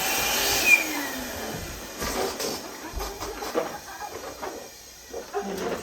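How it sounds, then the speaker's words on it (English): An electric balloon inflator machine blows air into latex link balloons with a steady whooshing hiss, rising and falling slightly, with small clicks and rustles along the way. "I would use a machine to inflate these actually."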